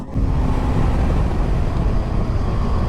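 A Rieju Aventura 307 motorcycle on the road braking down from 70, heard as a steady, loud roar of engine and rushing wind with no distinct breaks or pauses.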